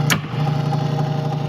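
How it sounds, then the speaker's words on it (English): Engine noise maker of a 1962 Williams Road Racer electromechanical arcade driving game, giving a steady buzzing motor drone with a fast pulsing flutter, close and continuous after a brief click at the start. "this is the noise maker. So that makes the noise of the engine running"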